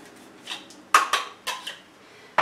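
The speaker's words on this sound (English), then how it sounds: "I just have this nifty little slicer. So just 2 cloves," A few sharp, crisp clicks and snaps from a small handheld slicer cutting two garlic cloves, spaced irregularly and heard close up with no talking.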